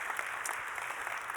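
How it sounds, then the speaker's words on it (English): Church congregation applauding, a dense, even wash of clapping filling the short moment without pause or voices on top. "I think you should clap for that."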